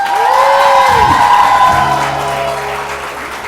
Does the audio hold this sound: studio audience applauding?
yes